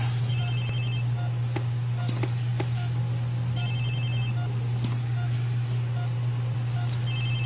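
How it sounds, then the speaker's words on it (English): A phone or pager rings during a brain surgeon scene, short electronic chirps repeating at intervals over a steady low hum, fairly close and clear. "I think I'm being paged."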